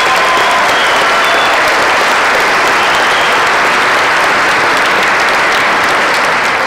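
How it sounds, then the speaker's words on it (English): Graduation ceremony audience gives a big round of applause, dense steady clapping that fills the hall at full loudness throughout, with no talk over it. "Another big round of applause, please."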